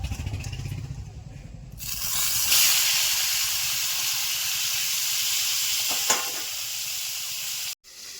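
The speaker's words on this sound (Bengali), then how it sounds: "এবার মাছের মাথাটা ভেজে নেব" A katla fish head drops into hot oil and breaks into a loud, steady sizzle that hisses continuously for several seconds after a lower rumble at the start, then cuts off abruptly.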